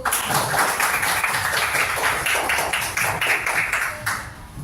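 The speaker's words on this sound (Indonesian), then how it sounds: "Tepuk tangan dulu." Children in a classroom clap their hands together in a steady run of quick, fairly loud claps lasting several seconds, with no talking over it.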